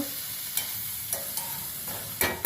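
Spinach and tomato curry cooks in a pan with a soft, steady sizzle, broken by a few sharp scrapes and knocks of a spoon stirring against the metal.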